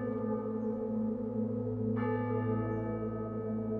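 A large metal hammer strikes the tenor bell of the derelict St Martin's church in Hindringham to sound a clock chime. One clear strike blooms midway through the clip over a sustained, ringing bell hum, with no voices.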